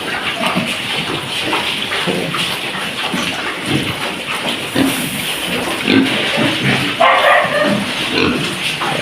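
Pigs grunting and squealing in a noisy pen, a steady jumble of animal noises with occasional louder outbursts and no talking.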